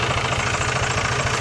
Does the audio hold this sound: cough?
no